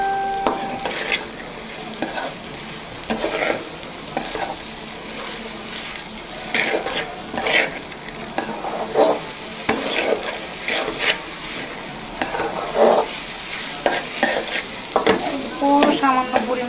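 A spice masala is stirred and mixed in hot oil, with repeated scraping strokes of a spoon against the pan over a low sizzle, the stirring coming in uneven bursts close by.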